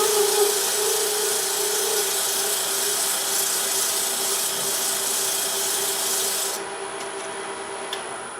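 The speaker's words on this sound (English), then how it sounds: "I just get my sandpaper on it flat. I can turn this up to about 800 RPMs." Sandpaper held flat against a spinning wooden salt box on a wood lathe at about 800 RPM gives a steady, loud, close abrasive rushing hiss, which eases slightly as the pressure lifts near the end.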